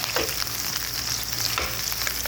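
Frozen seekh kababs shallow-fry in oil in a pan with onions, a close, soft, steady sizzle with faint crackles and a couple of brief stirring scrapes.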